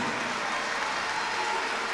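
Steady applause fills an indoor basketball arena, a dense even wash of clapping from the crowd with no pauses.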